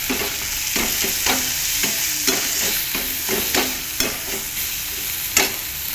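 Onion with Pravin masala, turmeric, salt and coriander stir-fried in a pan, a steady sizzle broken by repeated close scraping strokes of a spoon, roughly one or two a second, with no talking.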